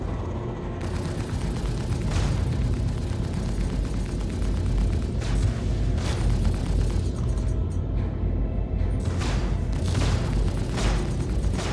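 Missile explosions in a Star Citizen space battle come as a run of heavy booming blasts and rumbling bursts, loud and dense across the whole stretch with no talking.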